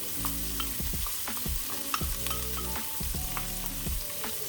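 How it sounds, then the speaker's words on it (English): Onion and dehydrated mushroom frying in a pan, with a steady close hiss of sizzling and frequent scraping, clattering stirs at an uneven rhythm throughout. "Onion is cooking nicely"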